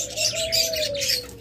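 Pet doves cooing in a breeding farm with Japanese pairs, lovebirds, cockatiels and budgerigars, a soft drawn-out coo ringing close under bright overlapping chirps from other caged birds.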